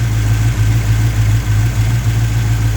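A Mopar 340 V8 engine with electrical problems and stalling after warming up idles close by, a loud, steady low rumble with a faint rhythmic lope and no voices.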